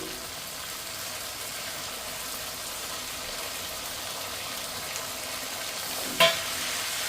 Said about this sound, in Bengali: এই যে বাটা মশলা এখানে আমি হাফ চামচ গোটা ধনে হাফ চামচ গোটা জিরে আর হাফ ইঞ্চি আদা একসঙ্গে বেটে নিয়েছি এটাই দিয়ে দেব